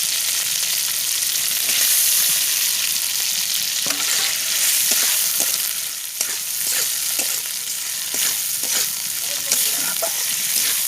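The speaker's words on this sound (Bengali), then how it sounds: "ভালো করে কষে নেব চিংড়ি মাছকে।" Shrimp frying in a pan with salt, a constant bright sizzle broken by clinks and scrapes as it is stirred, with no talking.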